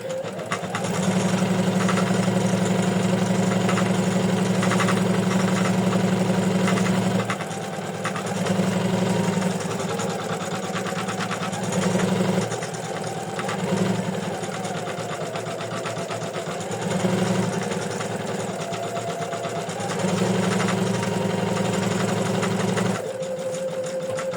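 An embroidery machine stitches the stem and leaf of an in-the-hoop daisy purse, whirring and buzzing in a steady, close mechanical rhythm with brief pauses and changes in pitch as the needle moves.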